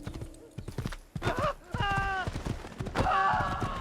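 In the game Assassin's Creed, a horse's hooves clip-clop in a quick, steady rhythm, and the horse lets out a loud, wavering whinny partway through and again near the end.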